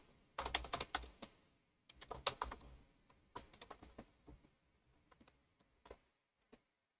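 PHP code typed on a computer keyboard, quiet and close: irregular bursts of light clicking keystrokes that thin out and end in a few scattered taps, followed by silence. No voices.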